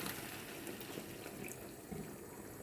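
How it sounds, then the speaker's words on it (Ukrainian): Water runs steadily from a tap into a cooking pan of macaroni, a continuous splashing hiss that fills the whole moment with no voices. "І додаю сюди воду."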